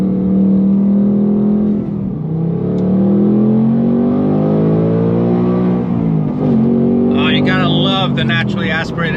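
A 2025 Ford Mustang Dark Horse naturally aspirated engine pulls through the gears with a manual transmission, a loud, smooth rising drone that dips briefly and climbs again, with a voice cutting in near the end.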